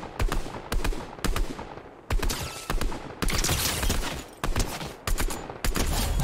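Rapid bursts of automatic gunfire ring out in a shooter video game, several loud close volleys separated by brief gaps, with no talking.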